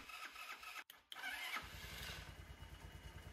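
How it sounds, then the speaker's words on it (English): 150cc GY6 Chinese scooter engine cranking with a brief starter whir, a short pause, then catching and settling into a steady, close, pulsing idle. "That's it, the engine runs."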